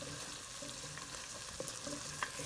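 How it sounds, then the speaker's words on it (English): Onions and garlic frying in olive oil in a pan for shrimp chowder, a steady close sizzle with light clinks and stirring scrapes throughout, no voices. "I started out some onions and some garlic in olive oil"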